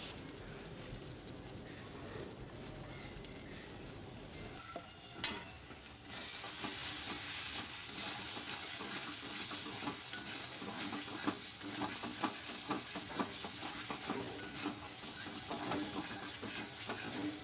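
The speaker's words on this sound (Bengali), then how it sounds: "কাঁচা লঙ্কা পেস্ট দিয়ে আমি ভালো করে কষিয়ে নেব" Spices and green chili paste fry and sizzle in a pan as they are stirred and scraped, a steady broadband hiss with repeated scraping strokes and no talk.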